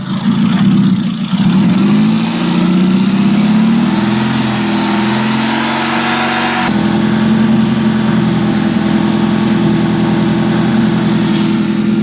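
A car engine runs loud and close after a fuel system cleaner has been added, its pitch swelling and dropping in slow revs before holding a steady rumble.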